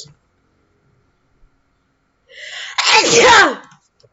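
A single loud sneeze bursts out after a brief sharp inhale, close and sudden, then quiet.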